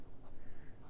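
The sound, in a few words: writing with a 1967 Parker 45 Flighter fountain pen on paper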